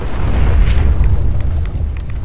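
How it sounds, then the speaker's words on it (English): A loud explosion in Fallout 4 hits at once with a heavy, rumbling boom, then fades into scattered crackling debris and small pops, and no one speaks. "Forgot about the explosion."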